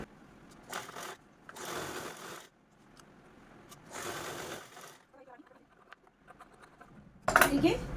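A sewing machine stitches folded fabric for a shopping bag in several short bursts of whirring with pauses between, a brief handling clatter near the end.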